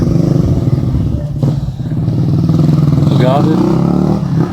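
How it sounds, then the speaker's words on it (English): A noisy motorcycle engine rumbles past close by in Davao City, Philippines, while someone talks over it. "Noisy bike."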